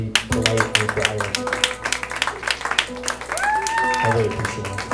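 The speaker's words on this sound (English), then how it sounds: "give yourselves a round of applause" Concert audience applauding for folk acts, scattered clapping under chatter and stray instrument notes from the stage, with a sustained tone rising briefly near the end.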